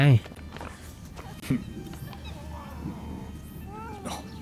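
A cat meows in the video game Rise of the Ronin, a short cry near the start and a few softer mews later, set against quiet game ambience and faint footsteps.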